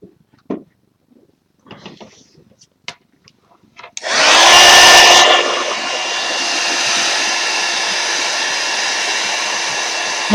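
A hair dryer drying black paint on artwork switches on after a few quiet seconds of faint handling noises, then roars loudly and close, settling into a steady continuous whir with a whine.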